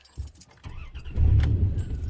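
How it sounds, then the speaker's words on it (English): Car parked beside a mobile home at an off-grid site, its engine turning over and catching after a few clicks of keys, then settling into a close, low idle rumble. "I'm going to see if the car will start."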